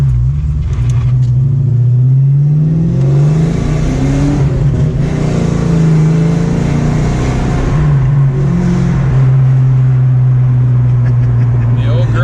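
A 1991 Ford Mustang LX 5.0 Fox body V8 with Flowmaster mufflers and an H-pipe rumbles loudly and revs up and down several times, deep throaty exhaust note steady throughout, close to the microphone.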